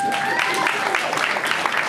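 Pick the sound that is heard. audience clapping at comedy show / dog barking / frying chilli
audience clapping at comedy show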